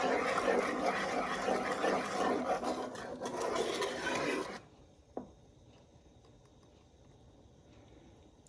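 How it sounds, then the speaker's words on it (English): A pot of food being stirred on the stove as it heats toward a boil, a steady scraping rub for about four and a half seconds, then quiet with one faint knock. "And just keep stirring it."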